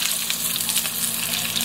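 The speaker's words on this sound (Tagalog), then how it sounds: "First step po natin ay iprito natin itong mga siomai" Loud, steady sizzling of siomai frying in hot oil, close and continuous with a bright crackling hiss throughout.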